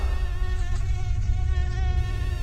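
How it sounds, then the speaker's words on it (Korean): Close, loud mosquito buzzing in a rented room at night, a steady high-pitched whine wavering slightly in pitch, alone without any voices. "하지만 모기가 미친 듯이 윙윙거리기 시작했다."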